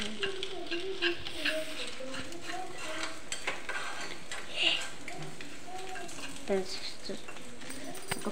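An Indian-style egg fry sizzles quietly in a pan while a spoon stirs and scrapes it in soft, irregular strokes, with a voice talking over the cooking.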